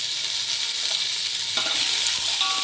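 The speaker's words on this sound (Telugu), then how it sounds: "వీటిని బాగా వేగనివ్వండి" Mint and coriander fry in an oiled pan for jackfruit biryani, a steady loud sizzle close by with faint stirring scrapes underneath and no pauses.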